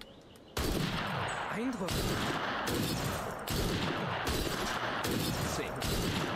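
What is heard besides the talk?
rifle gunshots in video game Assassin's Creed Syndicate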